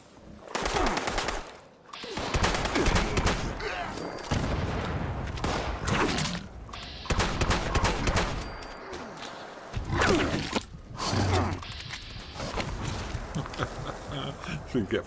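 Rapid automatic gunfire in Fallout 76 as cars are shot up, coming in dense bursts with short gaps between them, loud and close, plus occasional whooshes.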